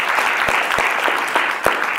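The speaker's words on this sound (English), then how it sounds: "How about a round of applause for Governor Riley?" Dense, loud clapping from a political rally crowd greets Governor Dick Riley, a steady roar of hands with a few sharper claps standing out near the front.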